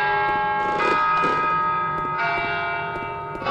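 Church bell in the 2D indie horror game Vermination, a loud sustained ringing with overlapping strikes and long resonant hum, heard alone.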